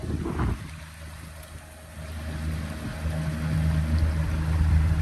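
A motorboat with an outboard engine runs at full throttle on a lake or river, a steady mechanical drone that grows louder toward the end under wind buffeting on the microphone, no talking.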